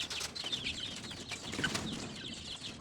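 Young white leghorn chickens about one month old, raised on a farm, cluck and chirp in an overlapping flock chatter, with bright high calls above a steady close background of rustling and movement.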